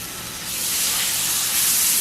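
Butter melts in a hot pan used just before for mushrooms, giving a loud, continuous sizzling hiss close by that swells slightly as it goes.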